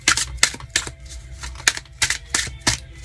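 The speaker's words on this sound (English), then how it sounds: "Give these a good little shuffle." Tarot cards being shuffled by hand, a run of crisp, irregular riffling flicks and taps close up, repeating roughly every half second with no talking.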